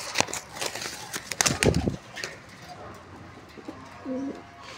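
Pigeons are let go from a hand, with soft cooing and wing flutters up close. Someone talks briefly over the birds.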